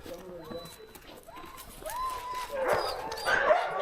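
Sled dogs in Canada resting between runs, with several whines, yips and barks rising through a busy outdoor scene, growing louder toward the end and mixed with background voices.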